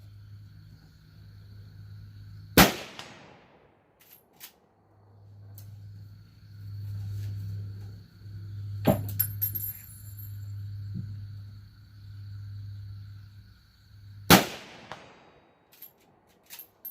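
Three sharp, loud rifle reports from a Marlin 30AS .30-30 lever-action at targets 100 to 150 yards out, spaced several seconds apart, with low rumbling background noise between shots.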